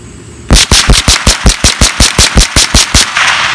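Rapid gunfire from a Marlin Model 60 .22 LR semi-automatic rifle firing cheap ammo, about fourteen loud, close shots in a steady, quick rhythm with no talking.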